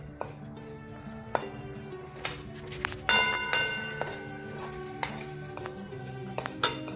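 Puffed rice chevdo with roasted chana dal being stirred in a pan, with repeated metallic scrapes, clinks and knocks of a spoon against the vessel over a faint sizzle, close up and irregular.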